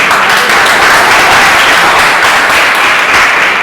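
An audience at a religious sermon gathering in Kolkata breaks into loud, sustained applause, a dense continuous wash of many hands clapping close by, with no pause throughout.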